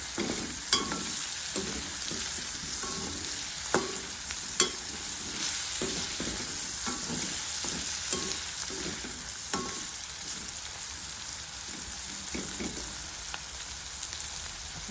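Dry shark fish (mora karawala) frying in oil while being stirred, a steady close sizzle with repeated scraping and clinking strokes at an irregular pace.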